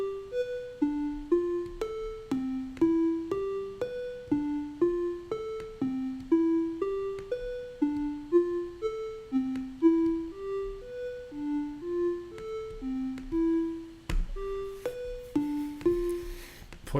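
A browser-based Tone.js synthesizer plays a steady sequence of clean, plucky electronic notes with sharp attacks, stepping up and down in pitch in a regular rhythm, clear and alone, with a brief noisy burst near the end.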